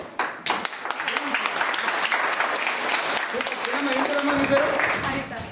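An audience claps together in a sustained, dense burst of applause with scattered voices mixed in, close and fairly loud throughout.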